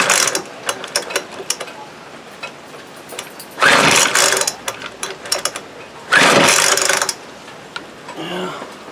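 Recoil starter being yanked on a thrift-store Weed Eater FB25 leaf blower that has sat unused, with two long loud ratcheting pulls amid smaller rattling and clicking handling noises, up close; the engine does not fire.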